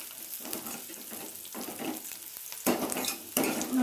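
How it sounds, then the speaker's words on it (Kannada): Onion, ginger and garlic sizzle in a pan for a chickpea and pea sambar, a steady frying hiss broken by rhythmic scrapes and stirs of a spatula against the pan, close and moderately loud. "ಇದನ್ನು ಸ್ವಲ್ಪ ಫ್ರೈ ಮಾಡ್ಕೋಬೇಕು"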